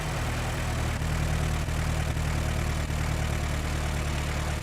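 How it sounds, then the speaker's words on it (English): A slow old Ford car engine in Gran Turismo 4 drones steadily at a low, even pitch, a constant close hum with faint periodic pulsing and no change in revs. "Just listen to that engine,"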